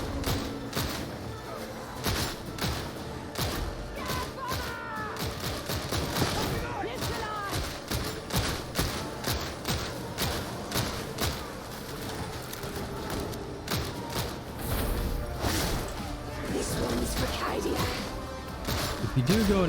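Rapid laspistol fire from the Veteran class in the video game Darktide, a dense stream of sharp repeated shots over a busy mix of combat effects and music, steady and loud throughout.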